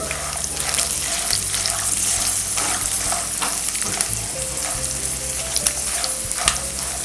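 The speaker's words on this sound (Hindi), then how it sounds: "मूंगफली को अच्छी देर तक सिक जाना चाहिए अच्छे से" Steady crackling sizzle of peanuts roasting in a hot pan, with occasional soft scraping as they're stirred, close by and continuous.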